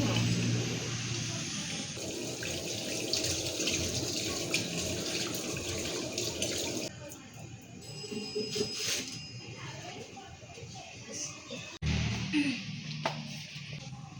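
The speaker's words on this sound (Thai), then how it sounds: "ล้างมือก่อนกินข้าว เดี๋ยวล้างมือเนาะ" Hands are washed under a running tap before a meal: a steady close splash and hiss of flowing water that shifts as hands move through the stream, with occasional louder splashes.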